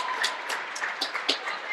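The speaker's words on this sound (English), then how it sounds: "Nice round of applause" Scattered applause from a crowd at a girls' high school basketball sectional semifinal, irregular claps spread across the gym at moderate distance, steady and fairly soft for the whole stretch.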